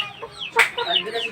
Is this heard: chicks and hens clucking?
yes